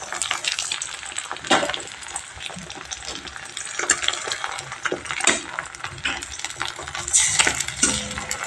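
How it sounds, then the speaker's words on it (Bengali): A beaten egg fries in hot oil in a pan, giving a soft crackling sizzle with scattered light metallic clinks and scrapes as it is spread out. "এবার পরের ডিমটা ফেটিয়ে আমি তেলের মধ্যে দিয়ে দেবো ভাজার জন্য"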